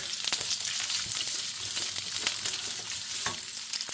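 Onions stir-frying in a hot pan with oil over medium-high heat give off a loud, steady sizzle with scattered clicks and scrapes as they are tossed around, and nobody speaks.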